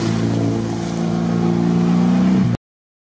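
An off-road vehicle engine revs hard at full throttle, a loud sustained droning roar that climbs slightly in pitch before cutting off abruptly into silence.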